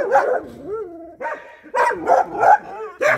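Several dogs bark and yelp close by in a quick, uneven series of loud barks with short whining pitch bends between them.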